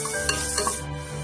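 Crushed coriander, cumin and shallots stirred into a dry fish curry in a pan, a steady soft scraping and sizzling stir at close range with no voices.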